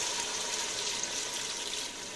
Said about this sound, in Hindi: अब हम इसमें कर देंगे 1 गिलास पानी